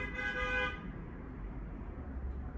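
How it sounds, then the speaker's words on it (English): Car horns honk outside, a muffled toot heard from indoors in a room, followed by quiet background traffic rumble. "Y'all know them people is honking."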